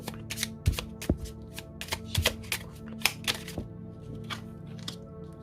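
Tarot cards are shuffled and drawn in a steady run of crisp, close riffling snaps and flicks, with sharper slaps as cards land, over a quiet room.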